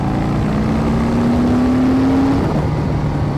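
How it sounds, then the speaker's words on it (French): A Harley-Davidson Street Bob 114 idling with its exhaust in open mode, a loud, steady, deep rumble close by with a slight rise in pitch before settling. "Tu as le mode ouvert, où elle fait un bruit"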